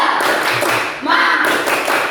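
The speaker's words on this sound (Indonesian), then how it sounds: "Kita sekali lagi tepuk semangat." An elementary school class at SDN Kayu Putih 03 claps the rhythmic 'tepuk semangat' pattern, loud and close, with sharp claps in quick groupings and children's voices chanting along.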